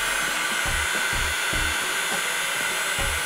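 A heat gun blows hot air at 300 degrees during a repair on a Mid 2007 / Early 2008 Apple MacBook Pro, giving a steady, close broadband whoosh with a faint low thumping pulse beneath it, and no voices.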